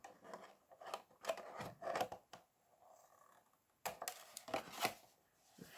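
Scissors trim the jagged edges of cut fabric for a Santa sleigh craft, giving a few clusters of close, crisp snips and rustles separated by a brief pause.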